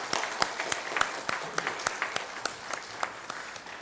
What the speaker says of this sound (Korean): 우리 다시 한번 인사하시고 박수하시겠습니다.